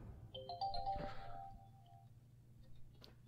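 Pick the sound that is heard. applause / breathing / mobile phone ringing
mobile phone ringing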